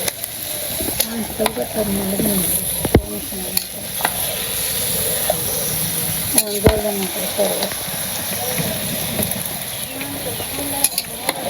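Oil sizzles loudly in a frying pan as food is stirred, scraping spoon strokes and sharp knocks breaking through the constant hiss, with voices speaking in the background.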